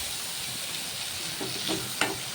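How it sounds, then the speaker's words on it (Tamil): Mustard seeds, urad and chana dal, and curry leaves fry in oil in a pan, giving a soft, even sizzle with a few quick popping crackles toward the end. "இப்போ அதே பேனில் ஆயில் ஊற்றி கடுகு, உளுந்து, கடலைப்பருப்பெல்லாம் ஆட் பண்ணிக்கோங்க."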